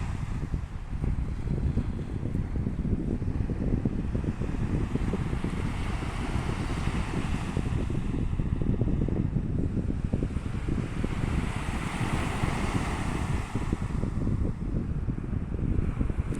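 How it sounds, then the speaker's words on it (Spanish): Sea waves wash onto a beach in a continuous broad roar, swelling and easing in slow surges, buffeted by strong wind noise on the microphone, with no voices. "Estas son las olas del mar"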